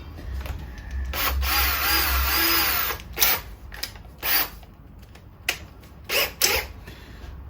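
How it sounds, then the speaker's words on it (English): A very fine drill bit bores a starter hole during guitar conversion and setup work, a steady high whine for about three seconds, then several short separate bursts of the drill, close and loud with no talking. "to drill a starter hole. Find anywhere, any very fine drill bits."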